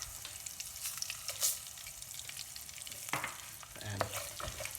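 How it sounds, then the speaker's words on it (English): Whole spices for a Rajasthani mutton curry sizzling and frying in hot oil, a steady close crackle with a few sharper pops and stirring scrapes near the end. "Once oil is ready, we're just gonna add the whole spices except the methi."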